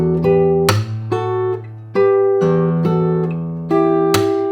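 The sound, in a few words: guitar melody with percussive body taps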